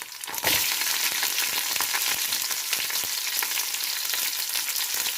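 Onion hitting hot oil with garlic, a dense steady sizzle that crackles loudly from the start and holds without letup, close and continuous with no voices.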